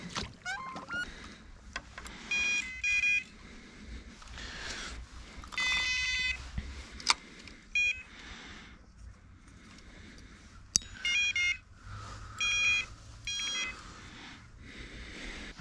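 Electronic carp fishing bite alarm at a winter gravel-pit lake, giving repeated bursts of high, clear beeps in several separated runs over quiet outdoor background.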